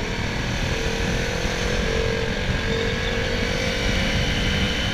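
A KTM Duke 390 motorcycle engine runs steadily while being ridden and downshifted, a loud continuous drone with wind rush, close and alone without talk.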